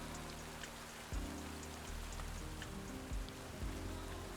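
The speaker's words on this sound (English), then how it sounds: "It's a rainy day in Satisfactory" Steady rain falling in the video game Satisfactory, a soft continuous patter with scattered droplet ticks and a few low thumps, faint and without voices.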